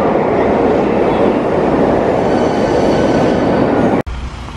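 A tram runs loudly past a city stop with a steady rolling rumble and wheel noise, close by, and the sound cuts off sharply near the end.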